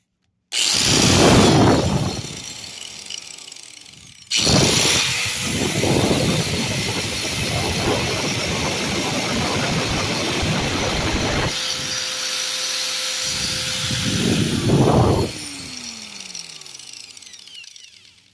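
A Genesis 4 1/2 inch 6 amp angle grinder whines loudly and harshly in long steady bursts, stopping briefly and starting again, with a winding-down tone near the end.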